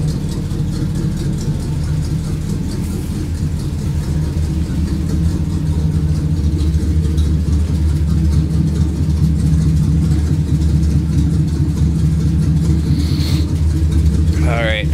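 A car engine idles steadily as it warms up after sitting garaged, a close, loud, even low rumble held throughout with no change in pace.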